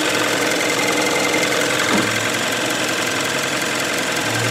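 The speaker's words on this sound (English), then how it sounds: "Now, the engine is very loud." A 2014 Hyundai Elantra GT's 16-valve engine with roller rocker arms idles loudly and steadily up close, its even mechanical clatter running throughout with no talk.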